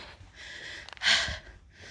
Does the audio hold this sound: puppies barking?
no